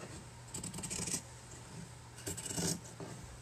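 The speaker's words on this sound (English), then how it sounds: "So we're just going to cut around the edges of the doily. With our scissors," Scissors cut fabric around the edge of a doily in two short bursts of close, quiet snipping and crisp rustling, separated by a pause.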